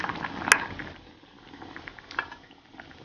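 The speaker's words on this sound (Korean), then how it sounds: "김치가 보글보글 끓고 있는데요" Kimchi cheonggukjang stew bubbles quietly in a pot, a faint soft simmer with a sharp metallic clink near the start and a few small ticks later.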